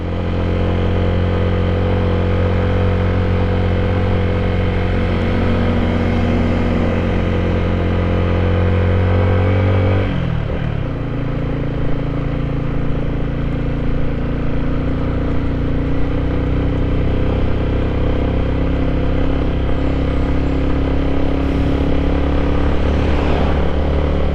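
A motorcycle engine drones steadily and loudly while riding on a long road trip from Cavite to Masbate, with a brief shift in pitch midway as the rider changes gear, no voices over it.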